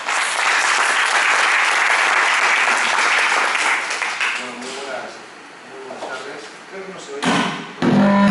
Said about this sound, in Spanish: Yo creo que un gran aplauso para él